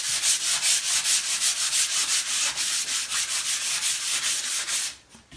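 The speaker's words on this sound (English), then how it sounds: "I'm just going to give this a quick sand, just to smooth it a little bit." A painting gets a quick sanding to smooth its surface, giving a steady rhythmic back-and-forth rasp of close, loud strokes that continues for several seconds, then stops abruptly near the end.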